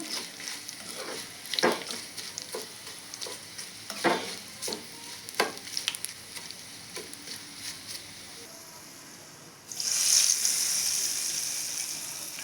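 Scattered clinks of stirring over a low sizzle, then a loud burst of hissing as an asafoetida spice tempering hits hot oil and keeps sizzling steadily, for tamarind-leaf chutney.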